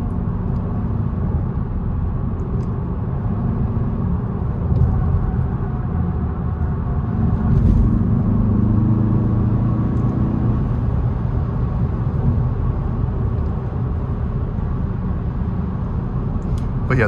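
A 2022 Mazda 3 Turbo sedan cornering on the road, heard from inside as a steady low engine and road rumble that swells briefly mid-way, with a voice talking over it.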